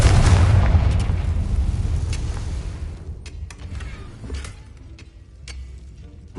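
Confringo blasting spell in Hogwarts Legacy on PS5: a deep booming explosion right at the start that rumbles and fades over several seconds, followed by a few faint clicks and debris ticks.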